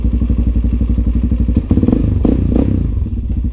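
A Hawk 250 motorcycle engine, fitted with a new spark plug, idles loud and close in a steady rapid putter, with a few clunks and rattles partway through and the idle settling back to its even beat.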